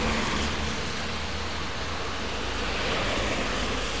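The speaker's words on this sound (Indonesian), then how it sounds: "Tadi hujannya deras banget" Heavy rain pours down in Magelang, a dense, steady roar of broadband hiss that holds constant throughout with no voices or breaks.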